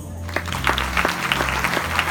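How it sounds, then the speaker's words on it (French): Audience applauding at a conference, a burst of close, dense clapping that starts abruptly and carries on steadily to the end. "Vous pouvez applaudir."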